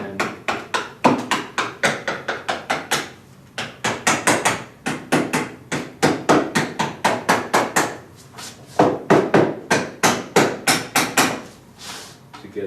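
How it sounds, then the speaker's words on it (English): A hammer strikes zinc sheet being shaped for a countertop, sharp metallic taps in quick rhythmic bursts of several blows with short pauses between, close and clear, no speech. "Grab our hammer here"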